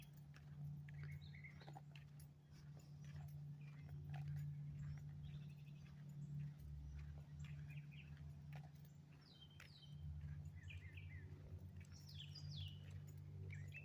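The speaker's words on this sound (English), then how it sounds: "Hear the birds chirping." Birds chirp in scattered, faint calls at Bagdad Mill Site Park in Bagdad, Florida, near a boat ramp, heard over a steady low hum on a calm day.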